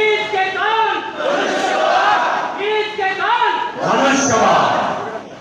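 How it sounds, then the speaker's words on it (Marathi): At an assembly election rally in Koregaon, a crowd shouts and cheers in loud, rising bursts of overlapping voices. The cheering swells in waves several times across the stretch. "महेश दादासाठी जोरदार टाळ्या आहे"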